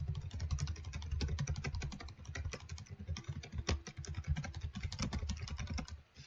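Steady typing on a computer keyboard, quick clicking keystrokes in fast bursts with brief gaps, close and distinct over a low background hum, with no voices.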